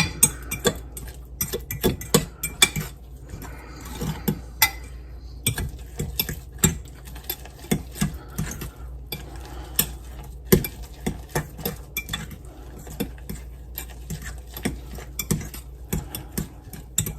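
Rye bread chaffle batter being mixed in a bowl, a steady run of light clicking and tapping utensil strikes against the dish, close and fairly quiet, with no talking.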